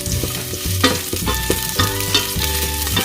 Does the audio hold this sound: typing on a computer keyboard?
no